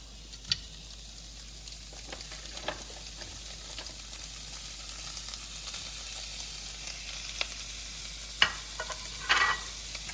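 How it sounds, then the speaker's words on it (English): Sausages brown in an already heated pan, giving a steady, quiet sizzle throughout, with scattered close clicks and scrapes of a utensil turning them. "So we're gonna bring the sausages over here and we're gonna cook them in the pan, which is already heated up"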